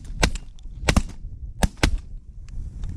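Shotguns fire at waterfowl during a hunt, several sharp, loud reports in quick succession, some paired close together, with a faint crack or two trailing between them.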